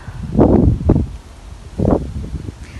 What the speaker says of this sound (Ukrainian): У нас сьогодні такий вітер